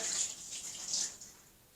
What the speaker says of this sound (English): once we take our evaporated milk and pour it into the pot